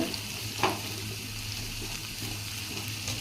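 Onions and spices sizzling in a pan for capsicum curry, a steady close frying hiss with one soft knock early on.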